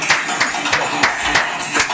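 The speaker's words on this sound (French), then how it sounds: "Comme ça, applaudit." Several people clap together in a steady, even rhythm, about six or seven sharp claps spaced evenly over two seconds and heard close and clear.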